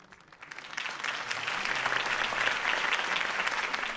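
Crowd applause erupts at a political campaign rally for Harvey Dent in the Batman Telltale Series video game, swelling quickly and holding as sustained, dense clapping throughout.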